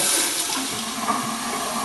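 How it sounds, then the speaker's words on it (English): A Toto Neorest 500 toilet flushes in one short, loud rush of water that rolls on steadily and then tapers slightly, heard up close with no talking. "So 4 flushes for a complete Big Mac, I guess."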